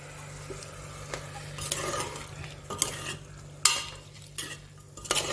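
Vegetables are stirred into a rice and dal mixed-veg pulao, with a close, repeated scraping of a spoon against the pot over a soft sizzle.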